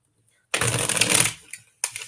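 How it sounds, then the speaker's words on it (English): A deck of cards is given one quick shuffle, a loud dense riffling burst lasting under a second, followed by a few brief card taps and flicks up close. "one more quick shuffle for Brad"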